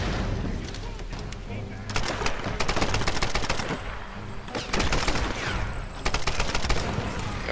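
Video game gunfire from Tomb Raider, with dense rapid bursts of shots repeating in several loud volleys and short pauses in between.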